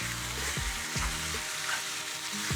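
Chicken pieces searing in a single layer in a hot pan for a charred Mediterranean chicken salad, a steady close sizzle with a few sharp low knocks and scrapes, no voices.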